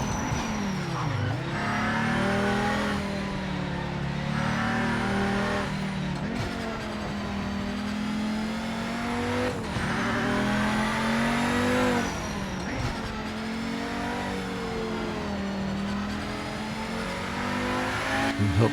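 A race car engine in the Project Motor Racing 2.0 video game revs hard through a timed lap. The engine climbs through gears with a steady, loud, close roar and dips briefly on each shift and lift.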